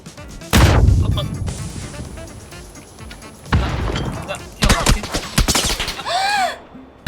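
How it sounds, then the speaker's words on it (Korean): Grenade blasts and bursts of gunfire in a battle royale video game: heavy booms and rattling volleys come in several loud waves, with voices talking over the action. "수류탄이 바로 터지네."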